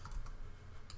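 A computer mouse or keyboard gives a few quick, faint clicks close by in a quiet room.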